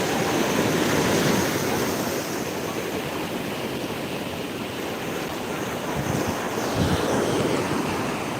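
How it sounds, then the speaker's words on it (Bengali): High-tide sea waves surging on Old Digha beach, a continuous loud roar of surf with heavy wind buffeting the microphone and a stronger wave crashing near the end, no talking. "জল পরিমাণটা বা যে ঢেউ ঢেউয়ের পরিমাণটা অনেকটা বেড়ে গেছে আগের তুলনায়"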